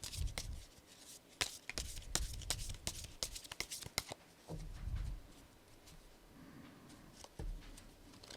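Tarot cards are shuffled and drawn by hand, close crisp riffles and sharp snaps in irregular bursts mixed with softer sliding and tapping of cards on a table.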